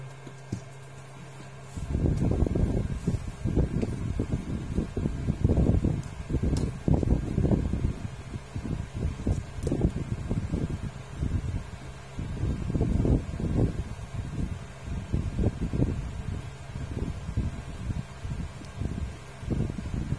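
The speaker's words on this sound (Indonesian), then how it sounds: "Hidupkan kipas ya" An electric fan blows steadily to cool the motherboard of a Lenovo V130-14IKB laptop under repair, making a loud, rushing, fluttering whir that starts after a short quiet moment and carries on with uneven gusty surges.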